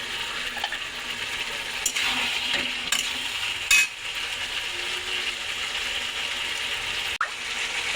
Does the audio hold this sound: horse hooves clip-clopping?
no